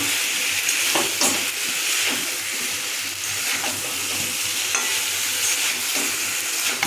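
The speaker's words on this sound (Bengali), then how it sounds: "মশলাটা সঙ্গে সবজিগুলো একটু কষা কষা করে করে নিচ্ছি" Cauliflower and potato pieces fry with spices in oil, giving a steady close sizzle broken by repeated scraping stir strokes, with no voices.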